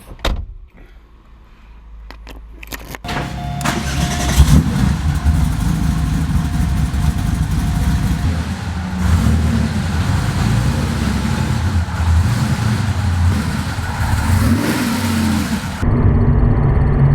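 A car door shuts, then an engine starts and runs loud and steady close by during a test drive after camshaft work, with a rougher surge near the end before a clunk.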